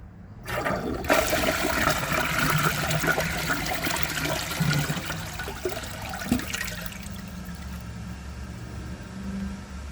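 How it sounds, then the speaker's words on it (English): A clogged Sterling Windham toilet, a 2017 model, flushes with a loud rushing surge of water that churns for several seconds, then fades into gurgling and trickling as the bowl struggles to drain. "I'm going to hold the handle for a second flush."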